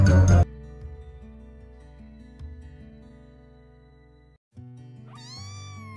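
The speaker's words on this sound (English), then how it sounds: "C for Cat." A cat meows once with a rising, drawn-out call near the end, heard over a bright musical backing in a children's phonics song. There is no speech.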